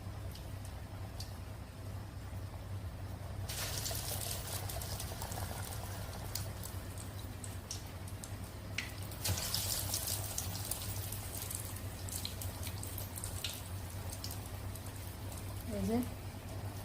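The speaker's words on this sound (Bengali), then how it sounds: "এভাবে আমি সবগুলা তেলে ছেড়ে দিব। তেলে ছেড়ে দেওয়ার পর এগুলাকে ভেজে নিব।" Onions and broccoli dropped into hot oil, a soft bubbling sizzle that grows louder after a few seconds, with occasional clinks and a brief voice near the end.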